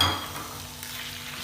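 Small cubes of boneless chicken, 300 grams, fry and sizzle in hot oil with garlic, a soft steady crackle with a brief stir at the start.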